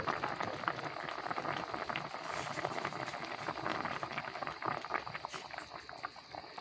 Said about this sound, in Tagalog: lalagyan na natin siya ng gata